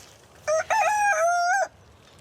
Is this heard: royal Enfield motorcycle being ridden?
no